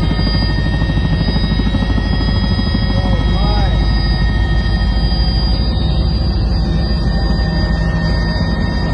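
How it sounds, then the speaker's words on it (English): A helicopter flying over a glacier drones loudly and steadily throughout, its rotor and engine hum dense and unbroken, with a voice speaking faintly under it. "A helicopter flying over a glacier captured this unique sight."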